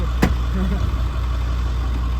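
A new pickup truck's engine idles nearby with a steady, even low rumble and a single sharp click right at the start.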